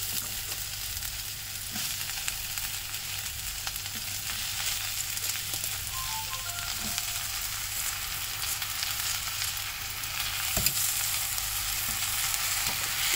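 Moringa leaves sauté in hot oil in a pan, giving a steady, close sizzling crackle for the whole stretch, with a few sharper clicks and stirring knocks and no talking.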